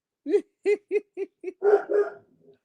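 A pet dog barks five times in quick succession nearby, then lets out two longer, rougher yowling barks that trail off, with no talk over it.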